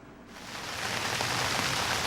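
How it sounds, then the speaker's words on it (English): Steady rain falls on a surface in cool May weather, a dense even hiss that swells slightly and then holds, with no voices. "Middle of May, and it's 60-some degrees and raining."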